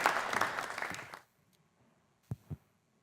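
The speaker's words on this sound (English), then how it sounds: "All right, we'll make a round of applause." Audience applause at a college student fashion show, a dense burst of clapping that fills the first second and then stops abruptly, followed by near silence and two faint soft knocks.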